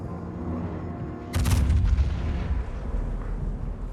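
Main battery guns of a warship firing in World of Warships, one heavy booming salvo breaking out sharply and then rolling on with a loud, long rumble under steady game background noise.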